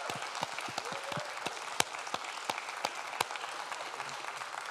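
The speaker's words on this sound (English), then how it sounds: "So let's give them a round of applause," An audience at a campus and community radio awards gala claps, with sharp separate hand claps standing out over a soft, scattered patter of applause that stays rather faint and thin.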